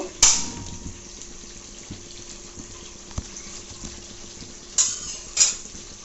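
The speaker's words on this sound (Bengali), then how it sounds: "প্যানটা আমি চড়াই দিলাম, চুলাটা ধরিয়ে দিব।" A frying pan set on a kitchen stove and the burner lit for tempering spices for beef kala bhuna: a sharp metallic clank at the start, quiet hiss in between, then two more clicks and knocks near the end.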